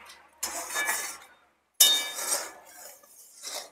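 A spoon clinks against a glass jar while raw green mango pickle with black salt gets stirred: bright, ringing clatters in two main bursts with a short silent break, then a softer tap near the end, close and clear.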